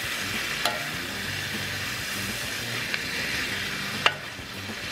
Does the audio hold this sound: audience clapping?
no